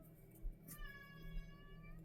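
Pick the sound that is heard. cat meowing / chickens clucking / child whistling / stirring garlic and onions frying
cat meowing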